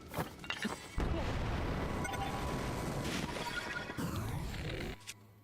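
An explosion in a video game: a loud, sustained blast with rumbling debris lasting several seconds before cutting off abruptly.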